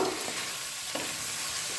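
Paneer, capsicum and tomato stir-fried in a pan give off a soft, steady sizzle, with faint scraping of a spatula stirring through it.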